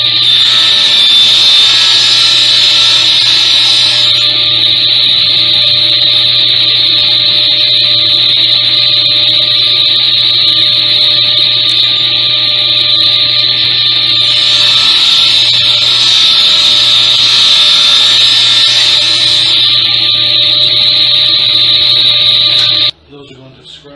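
A power saw runs with a loud, steady high-pitched whine, droning for over twenty seconds before cutting off abruptly, cutting a pen blank in woodturning.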